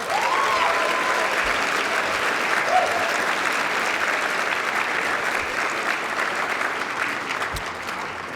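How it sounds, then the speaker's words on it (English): A dinner audience at the 2023 HRC Greater New York Dinner gives a sustained round of applause, dense steady clapping from a large crowd that holds at full strength for the whole stretch, easing only slightly toward the end. "I think we should give her another round of applause"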